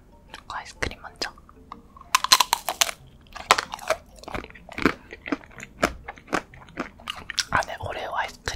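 Oreo ice cream eaten close to the microphone in an ASMR mukbang, with a string of sharp, crisp bites and crunches mixed with wet chewing and soft mouth sounds, irregular and upfront.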